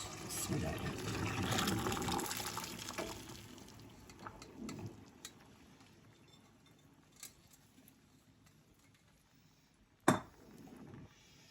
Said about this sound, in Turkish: Kaynamakta olan fasulyeyi de etlerimizin üzerine ilave ediyoruz.